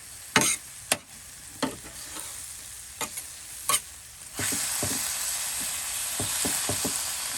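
Omelette mixture cooking on low heat in a hot pan, a steady soft sizzle rising midway after a few scattered clicks and utensil taps, close and fairly quiet with no voices.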